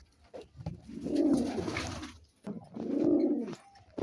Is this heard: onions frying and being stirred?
no